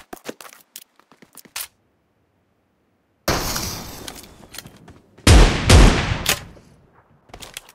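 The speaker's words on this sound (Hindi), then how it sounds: "उसके बाद मैं फ्लेयर चला देता हूं।" A flare gun fires in the mobile battle royale game BGMI during a Holi Bash event. One sharp, loud blast is followed by a second heavy boom, set among scattered faint game clicks and ticks.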